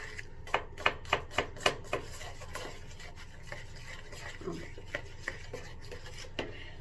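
Spoon stirring homemade deodorant mixed with coconut oil in a bowl, a run of sharp scraping clinks against the container, then slower, sparser taps and scrapes, close and quiet with no talking.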